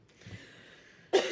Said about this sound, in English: Keep on coughing